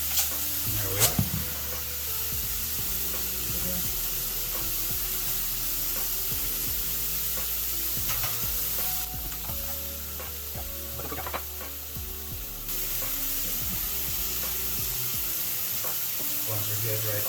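Salted and peppered burger patties frying in a pan, a steady soft sizzle running throughout with occasional clinks and handling noises from the cooking.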